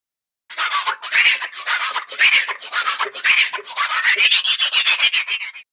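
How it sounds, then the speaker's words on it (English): A saw scraped rhythmically as a percussion instrument in rake and scrape ripsaw music, loud close rasping strokes in a steady beat that quicken toward the end, played alone. "Let's check out the saw in the ripsaw music."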